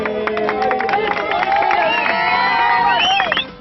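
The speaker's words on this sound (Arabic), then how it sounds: "صفقوا عليه" An audience at a gathering in Oran erupts in loud, continuous cheering, whoops and clapping for a prize winner who receives a fidget spinner, a dense crowd roar with excited shouts rising over it.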